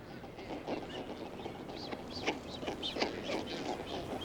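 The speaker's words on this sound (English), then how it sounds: "Blue-footed boobies live in densely packed colonies." A densely packed colony of blue-footed boobies calls, with many overlapping whistles and honks rising and falling at a moderate distance over a steady murmur of birds.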